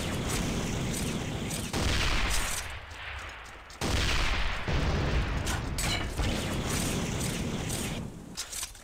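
A homing missile launcher fires repeatedly in Armed & Dangerous, dense loud blasts and rushing booms one after another with short gaps, nearly continuous and close.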